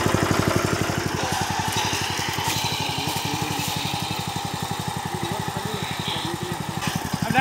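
A new tractor's engine runs steadily in reverse gear, giving a close, loud, rapid rhythmic chugging that continues evenly throughout with no talk over it.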